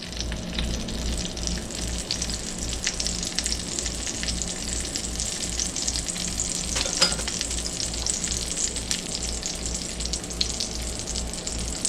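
Hamburger patties made Great Depression style sizzle steadily in a pan, a constant dense crackle with occasional pops, close and uninterrupted, with no voices.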